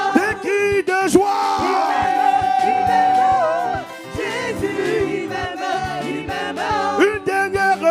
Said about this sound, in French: Des cris de joie.